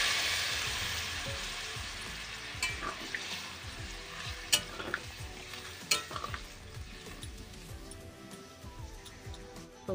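Mixed vegetables for Bengali shukto tipped into a spice paste in hot oil, with a steady close sizzle and frequent clinks and scrapes of a spatula stirring the pan throughout.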